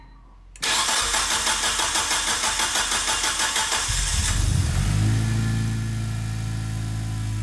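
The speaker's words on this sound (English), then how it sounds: "And now I'll start the car and check for leaks." A Mitsubishi Evolution VI CP9A cranks for several seconds with a fast, even starter rhythm, then fires and settles into a loud, steady idle close by.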